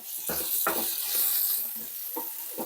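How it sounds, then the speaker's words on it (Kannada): Tomato and onion frying in a pan: a steady sizzle runs throughout, broken by a few close scraping stirs at irregular intervals. "ಟೊಮೆಟೊ ಈರುಳ್ಳಿ ಎಲ್ಲ ಬೇಗ ಫ್ರೈ ಆಗಿಬಿಡುತ್ತೆ"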